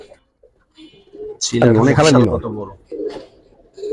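Pigeons, Giribaz and Pangkhi breeds, coo in a throaty, warbling burst in the middle, with softer calls before and after and someone talking nearby.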